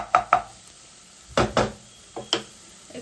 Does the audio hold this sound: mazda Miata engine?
no